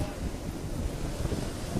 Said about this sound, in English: And the winds are picking up as well.